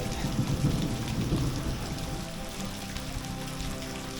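Heavy rain in Sylhet during a flood, a dense steady downpour hissing on surfaces nearby with a low rumble early on, continuous and without talk.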